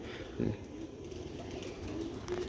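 Soft cooing of pigeons on a rooftop loft, murmuring low and steady with a slightly stronger coo near the start, heard at moderate distance over a constant background hum.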